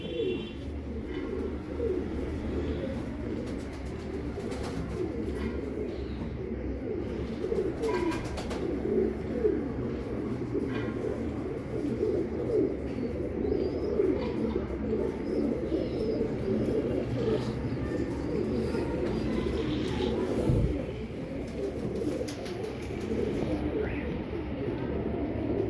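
Imam Deen pigeons coo repeatedly in soft, rolling bursts, close by against a low background hum, with occasional faint talk.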